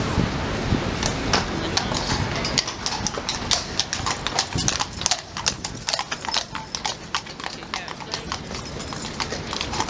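Crisp horse hooves clip-clopping on a hard surface in London, a steady run of sharp clops nearby, with faint voices in the background.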